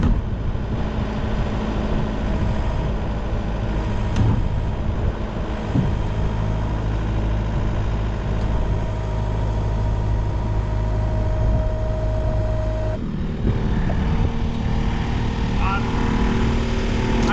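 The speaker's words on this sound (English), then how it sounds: "I'm going down to the barn to get the skid steer and try to move it with the skid steer" Skid steer engine running on a farm, a loud, continuous rumbling drone with a slight change in tone near the end.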